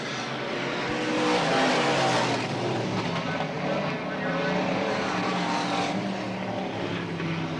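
Limited late model race cars circle Selinsgrove Speedway in 1988, a steady, loud engine roar with rising and falling drones as they pass, with an announcer's voice mixed in.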